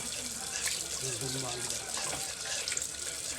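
Water runs from a tap over charred Indian trumpet tree pods as they are washed and rubbed clean, a continuous close splashing gush with a person talking over it.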